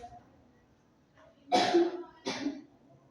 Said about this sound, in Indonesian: Ibu, kenapa ibu batuk begitu keras?